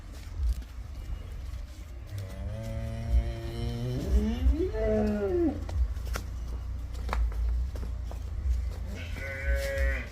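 A buffalo at a farm gives a drawn-out lowing moo with a rising, wavering pitch, fairly close and loud over steady outdoor background noise, followed later by a shorter call.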